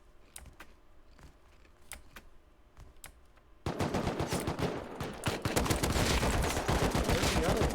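Gunfire in the survival video game Rust: scattered sharp single shots at first, then a sudden loud, dense stretch of rapid overlapping shots that continues to the end.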